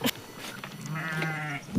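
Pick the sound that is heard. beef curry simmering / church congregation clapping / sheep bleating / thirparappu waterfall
sheep bleating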